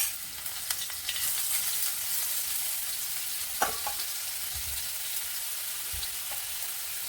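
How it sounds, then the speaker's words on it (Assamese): Ginger garlic paste hitting two tablespoons of hot oil in a wok sizzles continuously and close, with a few soft stirring taps and no voices. "এতিয়া মই কেৰাহীখনত 2 টেবুল স্পুন তেল দি দিছোঁ। এতিয়া মই আদা নহৰু পেষ্ট অলপ দিম।"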